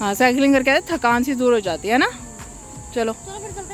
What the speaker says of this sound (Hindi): ये जो पीछे आवाज़ आ रही है ये झींगू की और मेंढकों की